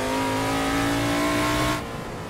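A drift car in the racing game Assetto Corsa holds a loud, sustained high-revving engine whine with tire noise, then the pitch and volume drop off sharply near the end.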